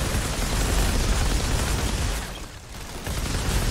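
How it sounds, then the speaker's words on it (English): A loud, sustained rumbling blast from a loot explosion in the video game Outriders, played as a Trickster, booming continuously, dipping briefly near the end, then surging again, with no talk. "Loot explosion."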